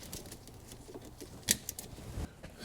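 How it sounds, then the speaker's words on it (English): Small cutters snip at little parts on a Ferrari 308 GT4 with a V8 engine left sitting for years, a few faint close clicks and one sharper snap amid quiet rustling of hands and metal. "I also have to snip those little chaps."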